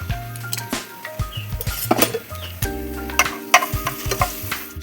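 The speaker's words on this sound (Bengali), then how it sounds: "কড়াইতে দিয়ে দিয়েছি তেল, তেল গরম হয়ে গেছে। এবার দিয়ে দেবো একটা তেজপাতা, শুকনো লঙ্কা" A bay leaf and dried chillies sizzle in hot oil in a wok, a steady close frying hiss with irregular metallic clinks and scrapes of a spoon stirring against the pan.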